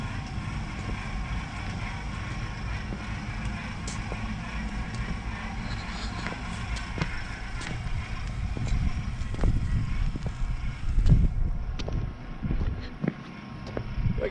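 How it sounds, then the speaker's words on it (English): A snowplow truck engine drones steadily under throttle, a continuous hum with wind-like noise that swells louder toward the end, with scattered clunks on top. "Let's go ahead and give her some throttle and we'll get underway."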